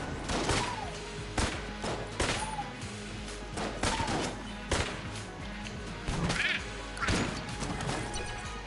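Explosions and shots crack and burst in a dense, rapid series in the video game Enter the Gungeon, with sharp impacts and scattered squawk-like effects, loud and close.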